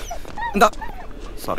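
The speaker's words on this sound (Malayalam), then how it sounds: "ഈ പട്ടിയാണോ എന്റെ വൈൽഡ് ലൈഫ് ഫോട്ടോഗ്രഫി?" A dog gives a brief whimpering yip, with a second faint whine soon after, heard close amid people speaking.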